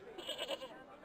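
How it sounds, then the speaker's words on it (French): A goat bleats in a short, wavering, nasal cry lasting about a second, close and fairly clear. "Rappelle-toi, Georges, la dernière fois que tu t'es confronté à une chèvre, tu t'es fait déglinguer par une vieille biq"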